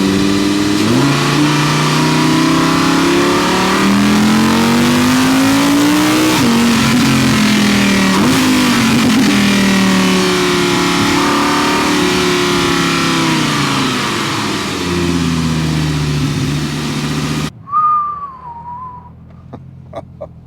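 A V10 mid-engine supercar engine revs loudly and close, its pitch climbing and falling in long sweeping pulls before cutting off, followed by a brief faint tone and scattered small sounds.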